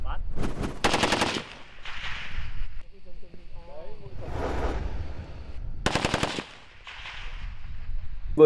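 An AK-47 assault rifle fires two short full-automatic bursts at a shooting range, sharp rapid rattling volleys separated by quieter stretches where someone speaks.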